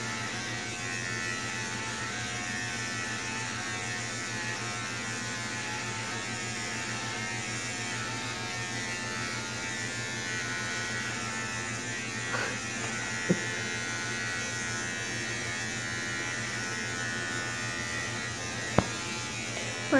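Electric clippers buzz steadily and close for the whole stretch while shaving a girl's head. The drone is constant, with a few faint clicks and brief thumps.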